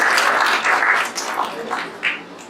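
Church congregation applauding after a sermon, a dense wash of clapping that fades unevenly, with voices mixed in underneath.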